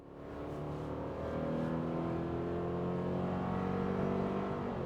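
A 2024 Subaru Crosstrek Premium with a CVT accelerates hard, its engine note swelling and climbing steadily in pitch as it holds revs in the power band, heard from inside the cabin with no talking.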